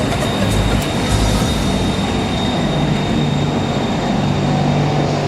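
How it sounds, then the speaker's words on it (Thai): An electric train of the Bangkok rail transit line pulls into the station platform, a loud, steady rumble of wheels and motors with a continuous high whine and rail squeal, close by and without voices. "รถไฟฟ้ากำลังเข้าสู่ชาชลาครับ"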